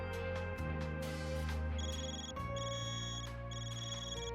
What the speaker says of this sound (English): Van, your Ziva's ringing. Why does it sound so weird though?